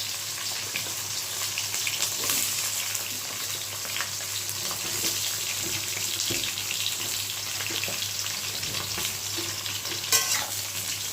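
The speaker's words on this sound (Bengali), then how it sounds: "তেল গরম হয়ে গেছে আমি তেলের মধ্যে বেগুনটা ভেজে" Eggplant frying in hot oil, a dense continuous sizzle heard up close for the whole stretch, with occasional stirring clatter and a faint watery hiss underneath, no voices.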